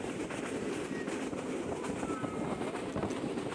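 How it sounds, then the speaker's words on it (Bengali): The Dolonchapa Express, a passenger train from Rangpur to Panchagarh, rolls along its rails with a steady loud rumble and rhythmic wheel clatter, heard from inside the carriage with no talk. "ট্রেন চলছে তার ছন্দে"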